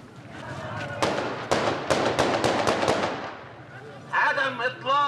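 Gunshots ring out at a crowded funeral gathering in a besieged Syrian city, a rapid string of sharp, loud cracks echoing in the open air, followed by voices shouting.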